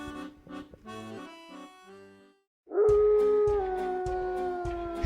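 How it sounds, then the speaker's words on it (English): A wolf howls in a dark forest, one long sustained wavering cry rising loud after a gentle musical passage and a brief silence, holding steady to the end. "It's a wolf."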